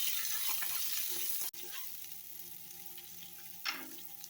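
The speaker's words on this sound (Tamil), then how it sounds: "வெங்காயம் கட் பண்ணி சேர்த்துக்கிட்டா சீக்கிரமாக வதங்கிடும்" Chopped onion and dried red chillies sautéing in a pan, a loud steady sizzle that cuts off abruptly, then a quieter fry with a single scrape.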